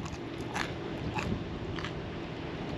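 A diner bites into crunchy, fully cooked pizza crust from Pie Guys Tap and Grill, three short close crackling crunches spaced about half a second apart over a low room hum.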